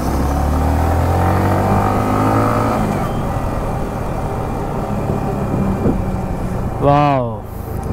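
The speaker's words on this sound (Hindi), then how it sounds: "ओहो अमित हॉर्नेट पे विली दे रहा है।" A Honda Hornet motorcycle engine revs hard during a wheelie on a road, a loud sustained roar that climbs and holds, with a brief rising rev near the end under excited talk.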